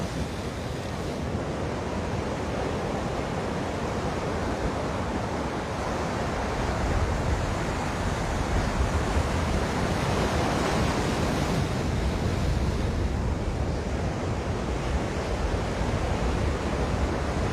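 Choppy ocean waves wash steadily against the shore at Magic Island by Ala Moana Beach in Hawaii, making a continuous broadband roar with wind buffeting the microphone and no distinct breaks between swells.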